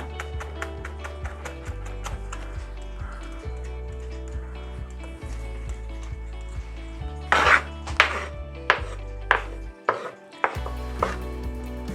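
A knife chops food for bruschetta on a cutting board in rapid, close, rhythmic thuds, with a steady low tone beneath and a few louder knocks.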